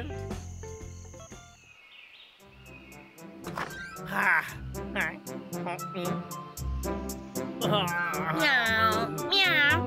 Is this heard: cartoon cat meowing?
yes